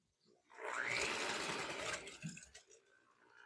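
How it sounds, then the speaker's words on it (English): An electric stand mixer with a whisk attachment beats cake batter for mini pound cakes, a quiet steady whirring motor that starts up, runs evenly for about a second and a half, then winds down. "I'm going to use my whisk attachment on here, and we're going to whisk this up."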